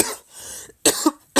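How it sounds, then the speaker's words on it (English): A person coughs three times in quick bursts, close and fairly loud, with short quiet gaps between. "Got a bit of a cough."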